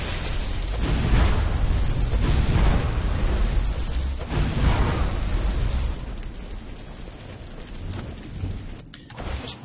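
A loud rumbling explosion in the Skyrim video game, a dense roar that swells and rolls for several seconds, then thins into a fading rumble that cuts off near the end.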